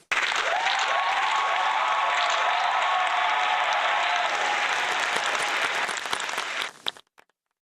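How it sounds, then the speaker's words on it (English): A studio audience gives two podcast guests a round of applause: loud, dense clapping that starts almost at once, holds steady for about six seconds, then stops abruptly. "You two give yourselves a round of applause."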